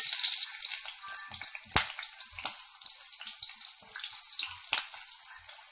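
Green chillies hitting hot ghee for a kadhi tempering, giving a steady crackling sizzle with a few sharp pops, close and alone without talk.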